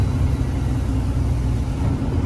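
A loaded Leyland truck on a night haul labours up a climb, its engine a steady, heavy low drone that fills the space without letup, close and loud with no voices.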